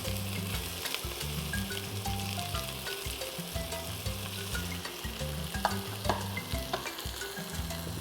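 Garlic and pimento fry in a pot for a Trinidadian smoked herring stew, giving a steady, close sizzle with stirring scrapes and a low, uneven rumble underneath.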